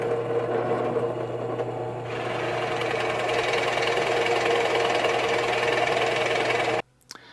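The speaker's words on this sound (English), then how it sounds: "line it up, and drill the hole." A drill press bores a hole into a wooden furniture part on a glider rocker, giving a steady loud whirring grind for several seconds before stopping abruptly near the end.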